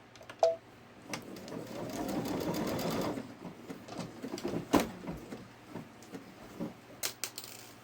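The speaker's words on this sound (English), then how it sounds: "I'm doing 3 locking stitches on top of this because I didn't think that it locked it good enough." A Babylock Solaris 3 sewing machine stitches through a quilt block in a short burst of steady whirring, followed by scattered clicks and handling noises, close and moderately loud with no one talking.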